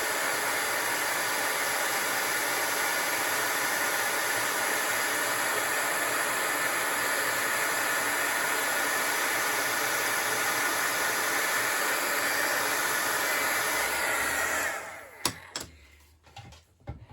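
A heat embossing gun runs loud and steady as it melts powder on a handmade Stampin' Up Christmas card, a constant roaring hiss that cuts off near the end, followed by a few soft clicks and handling sounds.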